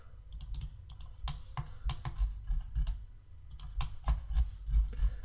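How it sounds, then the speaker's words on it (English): Computer keyboard keys and mouse buttons click in short irregular bursts, crisp and close, several quick presses clustered together with brief pauses between, no voices. "press the control button, and then click the point that I want"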